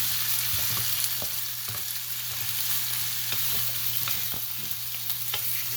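Mutton fries in a kadai for Afghani pulao, giving a steady close sizzle with a constant low hum and scattered stirring clicks throughout.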